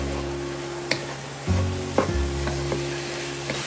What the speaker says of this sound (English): And let's stir that in.